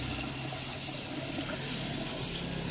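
Water running out of a plumbing system during hot water and plumbing tests in a conversion build, a steady broadband rushing flow that stays constant and fairly close throughout with no talk.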